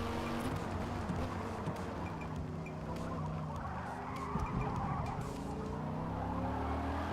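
A GT Viper race car is driven in the Forza video game, its engine droning steadily with shifting pitch and bursts of tire scrub. The sound is continuous and fairly close throughout.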